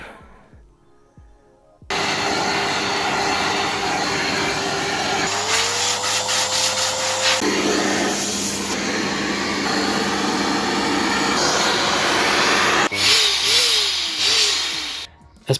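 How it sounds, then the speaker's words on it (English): An air blower roars on to blow dust off a dust screen, starting abruptly after a quiet moment and holding a loud, steady whine with a few shifts in pitch as it moves across the mesh. "if you really have to, you may use the blower, something like this"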